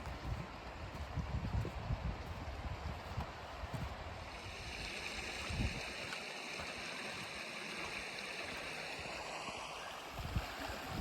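A stream running high after heavy water on the Pennine Way near Crowden, rushing steadily and close by under gusty wind, with no talk.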